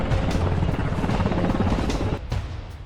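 A helicopter evacuates a wounded soldier in a war film about a Navy SEAL mission deep in enemy territory, its dense, chopping rotor roar steady and loud throughout before easing slightly at the end.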